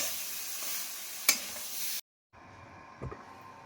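Prawns sautéed in a pan for a Bengali kosha dish with potatoes: a steady close sizzle with a sharp spatter, then a pause and a quieter frying hiss with a stirring clatter.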